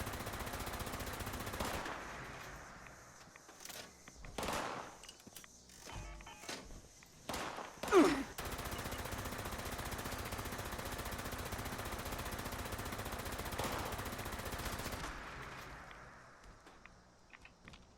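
Automatic gunfire in the Fallout 76 video game crackles in rapid bursts, with a longer sustained stretch of shooting, plus scattered footsteps and keyboard clicks between volleys.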